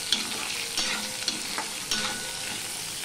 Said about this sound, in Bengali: দেখো আলুটা কিছুটা ভাজা হয়ে গেছে।